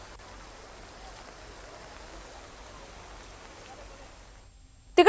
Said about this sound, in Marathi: जळगावमध्ये सकाळपासून मुसळधार पाऊस बरसतोय